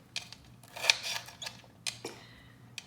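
A knife slicing half an orange sweet pepper on a cutting board, several crisp cuts and light taps in uneven bursts, close and fairly quiet, with no talk.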